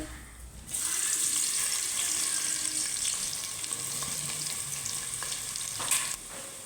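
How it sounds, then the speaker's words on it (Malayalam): Sweet pudding with ghee and raisins cooking in a pot, a steady bubbling hiss that starts abruptly and runs close and even, with a few clinks and light stirring near the end. "അപ്പോൾ ഇത് ഒരു വശം ഇങ്ങനെ തിളച്ച് റെഡിയാവും"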